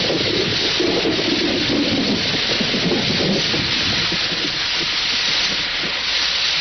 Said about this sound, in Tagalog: Ang lakas ng ulan, sobra.